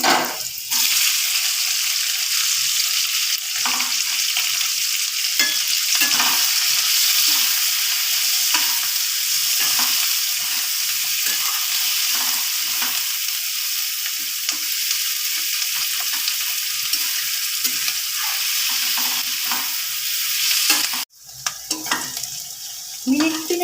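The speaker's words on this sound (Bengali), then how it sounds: "এবার আমি দিয়ে দিচ্ছি পেঁয়াজ" Loud, steady sizzling of onions frying in hot oil fills the clip with a dense crackle, interrupted by a brief clatter near the end.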